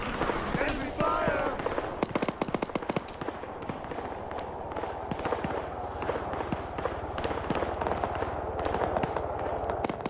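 Enemy gunfire in the military video game ARMA 3 crackles in dense, rapid bursts of shots followed by scattered pops, fairly loud and continuous, with a voice talking over it.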